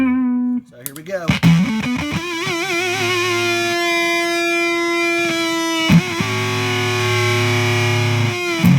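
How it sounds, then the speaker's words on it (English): Heavily fuzzed electric guitar, a Les Paul through a Fuzz Factory pedal with NOS germanium transistors, rings out in sustained, buzzing notes and chords, loud and saturated, with a brief choppy pause before settling into a droning tone. "So here's the fuzz factory, playing a Les Paul."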